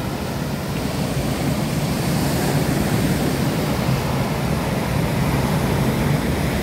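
Steady surf rolling in at Loknga beach, a constant dense wash of breaking ocean waves with no clear pauses, loud and enveloping, no voices.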